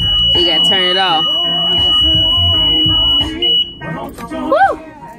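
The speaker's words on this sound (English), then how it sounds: "This annoying beep." A sharp electronic alarm beeps repeatedly, loud and close, with people talking over it.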